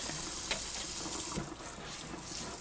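Running water streams steadily over a cat being bathed, wetting its fur and belly, a continuous close splash that softens partway through.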